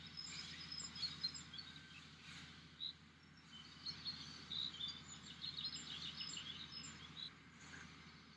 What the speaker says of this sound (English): So you heard all the birds in the background there.